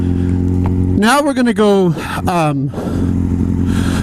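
A motorcycle engine hums steadily as the clutch is let out slowly with smooth throttle, its low tone running under a man's close, clear talking.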